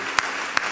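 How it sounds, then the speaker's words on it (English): Congregation at a funeral service clapping hands, two sharp distinct claps about half a second apart over a steady background of room noise. "Come on, keep clapping your hands."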